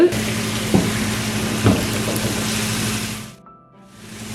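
Ginger sautéing in oil in a pan for Kerala-style inji pachadi, a steady loud sizzle with a couple of stirring knocks, fading out briefly near the end.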